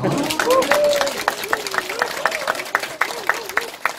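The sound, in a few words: audience applause at seminar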